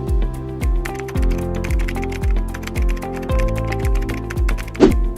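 A computer keyboard clatters as a file name is typed in, with a quick run of distinct key presses in an uneven rhythm and a slightly sharper tap near the end.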